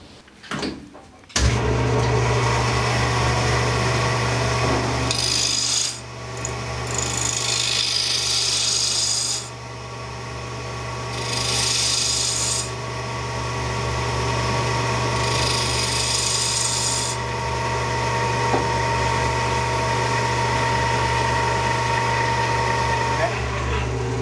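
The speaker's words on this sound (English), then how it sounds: "I chuck the leg back in the lathe again" A wood lathe spins a chair leg with a steady motor hum, overlaid by bursts of scraping and rasping cuts from the tool against the wood, close and continuous for the whole stretch.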